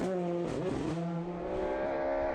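A rally car doing a half spin on a gravel stage of the 2019 Irish National Rally Championship in Sligo, its engine revving hard with tones dipping and climbing as it slides, loud and close, without talk.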